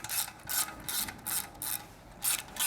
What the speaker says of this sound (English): first thing we're going to do is loosen the muffler clamp using a 10mm socket